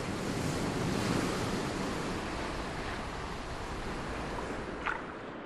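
Broad, steady roar of sea waves and surf washing continuously, with wind noise on the microphone and a brief splash near the end, no voices.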